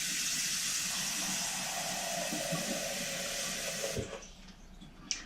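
Fresh tap water runs steadily from a faucet into a pot for heating masala chai, a loud, close, even rushing stream that stops abruptly near the end.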